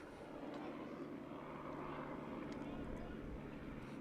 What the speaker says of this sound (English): As a helicopter flies overhead, you may be able to hear that on the microphone.